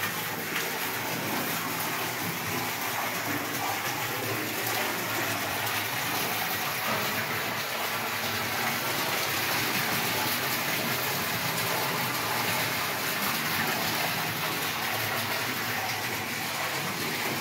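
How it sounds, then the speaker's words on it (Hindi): Water falls from a pipe held high above a tank, making a steady, loud, continuous splashing rush that runs unbroken throughout with no pauses. "देख पा रहे हैं पानी गिर रहा है इसमें।"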